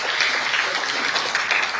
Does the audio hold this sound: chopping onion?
no